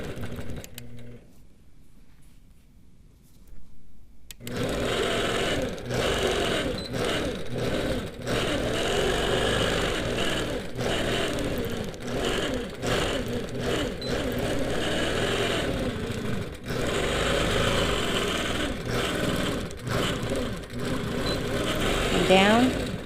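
A sewing machine runs in stitch regulated mode while free-motion quilting a churn dash block, a steady mechanical whir that starts after a quiet opening and continues throughout, with a person talking over it at times.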